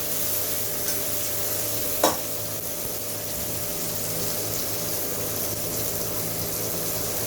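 Tomatoes frying in a pan for a paneer dish, a continuous hiss of sizzling oil with a single sharp clink of a utensil early on, no talking.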